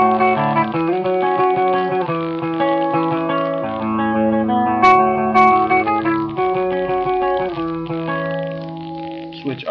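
An electric guitar through an EHX Small Clone chorus pedal with its switch down, ringing chords and notes with a thick, swirling modulated tone, loud and continuous with no break.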